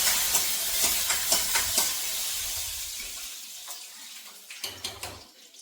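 Tempering sizzles in hot oil for a mango pulissery curry, a bright frying hiss with stirring clatter, loud at first, fading toward the middle, then flaring again briefly near the end.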